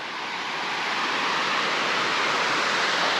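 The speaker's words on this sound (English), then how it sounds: "See the creek below." Panther Creek flowing below a hiking trail near Yonah Dam, a steady broadband rush of moving water that swells slightly and holds evenly throughout, moderately loud with no voices.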